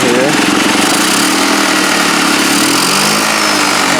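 A small build-off motorcycle engine from a 2019 ATLTF build, slightly under-jetted, runs loud and close with a steady, continuous buzzing drone and no pauses throughout.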